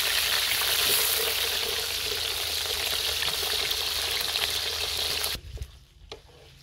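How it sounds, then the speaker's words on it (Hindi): Potatoes fry in very hot oil in a karahi, giving a loud, continuous hissing sizzle that suddenly drops to quiet near the end. "अभी हम इन्हें फ्राई करते हैं और इन्हें कढ़ाई में डालते हुए थोड़ी सी एहतियात बरतनी है क्योंकि ऑयल जो है वो काफ़ी गर्म होता है"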